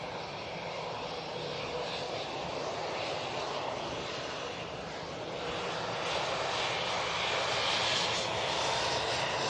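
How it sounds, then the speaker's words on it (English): An EasyJet airliner takes off from Manchester Airport bound for Pisa, its engines producing a steady, broad roar that swells slightly toward the end, heard at a distance without any talk. "And it's EasyJet off to Pisa."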